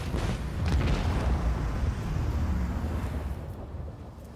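Macro cannons fire on a warship in the Warhammer 40,000: Rogue Trader video game, a heavy booming blast with rumbling explosions that swell early and then slowly fade.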